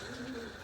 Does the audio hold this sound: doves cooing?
yes